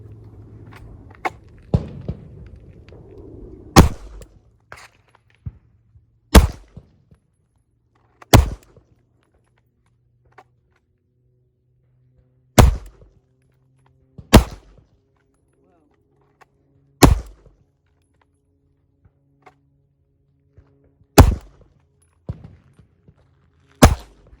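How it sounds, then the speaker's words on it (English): Single handgun shots ring out after each slow draw from a holster at a target, about eight loud sharp reports spaced a few seconds apart, with some talking and shuffling before the first shot. "you're going to draw 1 and shoot 1, and we're going to do that 5 times"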